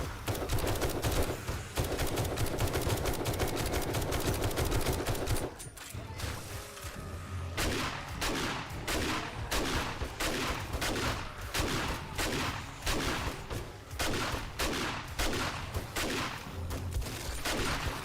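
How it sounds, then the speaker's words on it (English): Shotgun gunfire in the survival game 7 Days To Die, a run of repeated loud blasts at an uneven rhythm over a dense, busy background of other noise. "I'll use my shotgun"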